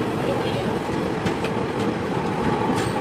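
Guwahati Intercity Express rolling into Mariani Junction at night, steady clickety-clack of wheels over rail joints and carriage rumble close by, with a faint murmur of people in the background.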